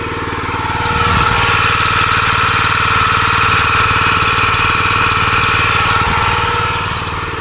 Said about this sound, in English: we're going to walk over on the other side so you can hear the pump itself making that noise